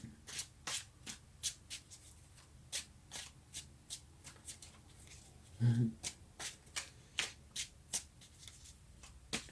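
Tarot cards being shuffled by hand: a run of short, crisp riffles and taps repeating at a brisk, uneven pace, close and quiet, with a brief thump near the middle.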